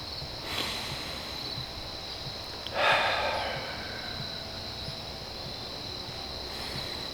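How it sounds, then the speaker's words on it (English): Steady high-pitched cricket chirping near sunset runs throughout, with a soft breathy whoosh briefly rising over it partway through. "Listen to the crickets."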